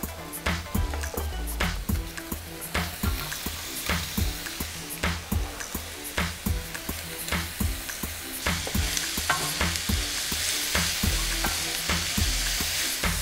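Aromatics frying and being stirred in a hot pan, a steady close sizzle with repeated scraping strokes of a utensil throughout, no talking.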